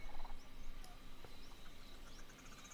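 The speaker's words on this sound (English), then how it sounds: "do you hear the birds and the cheeping?" Birds cheep and call faintly in a game world from Indiana Jones and the Great Circle, scattered short chirps over a low ambient hum, with no talking.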